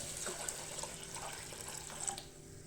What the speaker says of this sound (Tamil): இதுக்கு வந்து அஞ்சு டம்ளர் அளவுக்கு நான் தண்ணி ஊற்றுறேன்